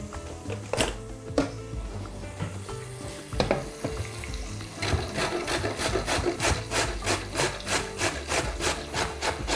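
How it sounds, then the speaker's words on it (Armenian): A carrot is grated for a beef and bean soup, giving a steady rhythmic rasping scrape that speeds into quick, even strokes, close and fairly quiet, after a few sharp knocks at the start. "1 գազար։ Առաջարկում այս անգամ քերել։"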